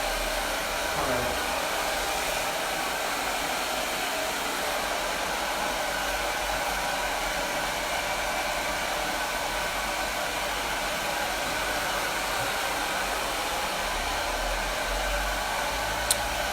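A hair dryer blows steadily throughout while a stylist finishes a blow dry after a textured bob haircut, a loud, constant whooshing roar with no breaks and no speech.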